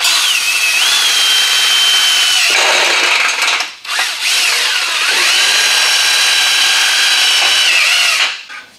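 Porter Cable 20 volt cordless power tool whirring loudly at high speed during window and steel stud work, running nearly continuously with pitch shifts and a couple of short pauses.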